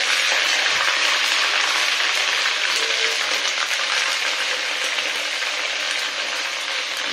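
Ginger-garlic paste frying in hot oil in a pan, a steady loud sizzle with faint crackles and occasional stirring scrapes, with no talk over it.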